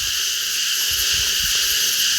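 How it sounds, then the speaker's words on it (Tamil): A mountain beetle in a forest gives a steady, shrill, continuous buzzing drone that fills the air evenly, with faint low rustles beneath and no talking. "இதுதான் மலை வண்டு."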